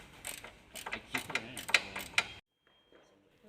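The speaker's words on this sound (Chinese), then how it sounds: "拆掉方向机的固定螺丝。" Rapid mechanical ratcheting clicks from a tool removing the steering rack mounting bolts on a high-mileage Mercedes, a quick run of sharp ticks close by, then near silence.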